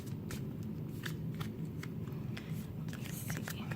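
A deck of cards being shuffled behind the camera, quiet riffling and soft flicking crackles in uneven bursts over a dull low background, fairly faint, no talk.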